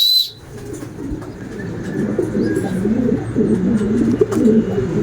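Racing pigeons in flight over an open area, with soft, steady cooing and faint chirps in the background at moderate distance, a low continuous murmur throughout.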